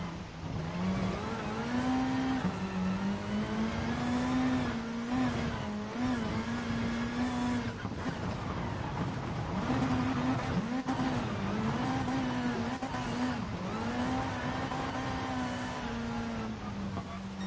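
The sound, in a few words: race car engine in Rally GT sport video game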